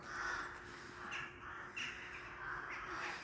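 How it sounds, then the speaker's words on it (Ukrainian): Crows cawing from trees in Zhytomyr: a flock gives repeated harsh caws, several calls spaced across the moment, moderately distant and faint with no talking. "Дивіться, стільки ворон налетіло, звідки не візьмись."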